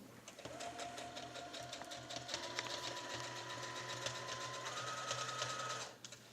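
A sewing machine stitches a knitted cowl together, running in a steady, continuous mechanical whir with a rapid rhythmic needle pulse at close range for about six seconds before stopping abruptly.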